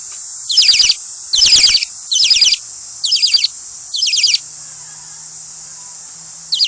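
An albino baby bird, likely a pigeon chick, cries for food in five rhythmic, raspy, high-pitched bursts over a constant loud whine of insects or crickets, with a faint low hum toward the end.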